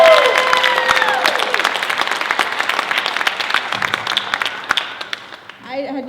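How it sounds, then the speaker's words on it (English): Convention panel audience at a Rock and Shock Convention breaks into applause, a crowd's clapping that swells after a voice and fades, with a few cheers and a voice starting again at the end. "So a big round of applause for Pancho for really bringing it in."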